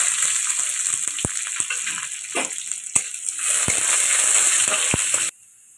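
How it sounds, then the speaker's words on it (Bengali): Garlic cloves frying in mustard oil in a wok, a steady close sizzle with occasional sharp clicks and taps of a utensil, cutting off abruptly near the end. "রসুনটা আমি কড়াইতে তেলের মধ্যে ভেজেই দিচ্ছি"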